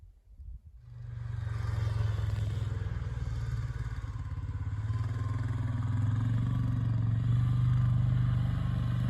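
A four-wheeler ATV engine starts up near silence and settles into a steady low rumbling drone that grows slightly louder as it approaches.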